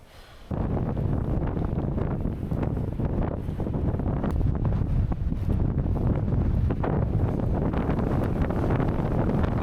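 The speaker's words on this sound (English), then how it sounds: "There's no way I can carry on in this wind." Strong gusts on an exposed coastline batter the microphone, making loud, continuous low roaring buffets that rise and fall throughout, with no voices.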